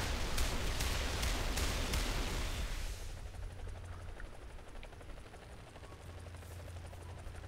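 In a video game, a helicopter's heavy gun fires a loud, dense burst for about three seconds over the thrum of rotors, then the steady helicopter drone continues alone.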